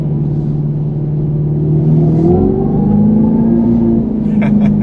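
A Dodge Charger Scat Pack engine rumbles and revs upward as it accelerates, a steady low drone rising in pitch, close and loud.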